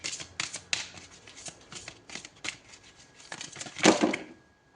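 Tarot cards shuffled and drawn by hand, a run of quick crisp riffling flicks and soft slaps at close range, ending in a louder burst as cards spill from the deck, with no talking.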